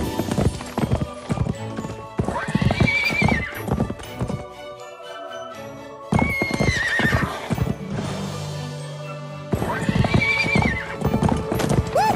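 A pony in the South Park video game gallops with brisk clip-clop hoofbeats and lets out loud repeated neighs and whinnies, in short bursts separated by quieter gaps.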